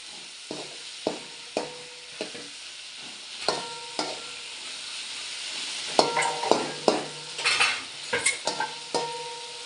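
Tomatoes with salt cook in a pan for a mutton dish, a quiet sizzle under repeated sharp scraping and clinking stirs of a metal spoon that come faster toward the end, with no talking.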